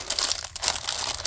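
A plastic bag for sealing finished shirts, bought from Temu, crinkled up close in loud bursts of crackling that come and go for a moment, with no voices.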